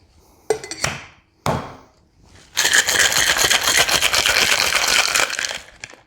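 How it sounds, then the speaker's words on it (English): A cocktail with rosemary-infused simple syrup is shaken in a cocktail shaker: two sharp knocks, then about three seconds of loud, continuous rattling before it stops abruptly. "Rosemary infused simple syrup, and we're going to shake."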